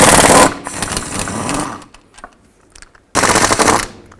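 Impact tool rattling off 13mm differential cover bolts on a Chevy Trailblazer, two loud buzzing bursts bracketing a quieter stretch of faint clicks and handling noise.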